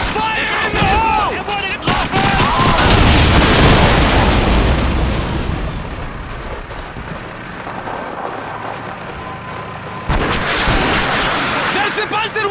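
Panzerwerfer rocket artillery and battle noise in the war game Call of Duty 2, loud continuous rumbling blasts and gunfire with shouted voices over the top.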